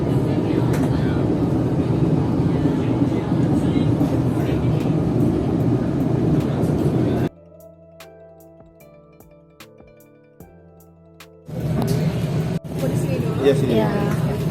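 A panoramic passenger train with wide windows, the Argo Parahyangan, rumbles steadily along, broken by a quiet stretch with a faint chiming tone before the rolling noise returns, with voices talking over it.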